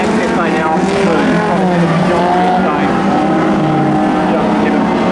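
Speedway race cars roar around the Goulburn track during a junior race, their engines loud and continuous with overlapping revving tones throughout, while a commentator talks over the field.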